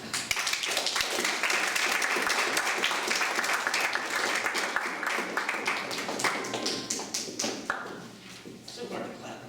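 Audience at a Toastmasters speech contest awards session applauding, a loud dense burst of clapping that thins into scattered claps and thumps, with some handling noise and brief talk near the end.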